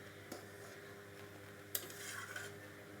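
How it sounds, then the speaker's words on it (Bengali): Small fish in a pot of curry with taro stems being stirred, a few metal utensil clinks and scrapes over a quiet simmering background, with a sharper clatter midway. "ভালো করে নাড়াচাড়া করে দিলাম।"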